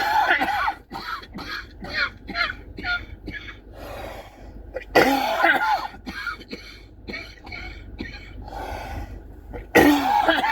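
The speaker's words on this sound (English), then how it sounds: "I wish there was a way I didn't have to cough so much." A person sitting in a parked car coughs repeatedly in short, harsh bursts, with several quick fits spread across the clip and some throat clearing in between.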